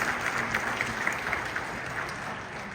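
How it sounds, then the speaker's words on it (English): Applause welcoming a city councillor to the stage at an India Day celebration in Edmonton, a full, even crowd clapping that sustains at moderate volume for a few seconds. "Let's give her a big round of applause."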